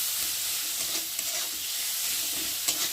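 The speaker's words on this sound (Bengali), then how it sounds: "মশলাটা ভালো করে কষিয়ে নেব" Constant bright frying hiss up close of a turmeric and chili powder spice paste, with occasional soft scrapes of a spoon stirring through it.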